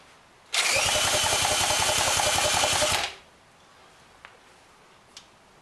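A Seahorse outboard motor cranked over by its starter, a loud, close, rhythmic chugging whir lasting about two and a half seconds before stopping abruptly, followed by quiet with a couple of faint clicks.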